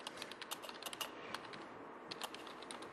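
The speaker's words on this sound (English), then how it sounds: "as I'm typing on the window on the right" Rapid, light typing on a computer keyboard during a live demo of a web chat window, clicks irregular and close, with soft background hiss and no talking.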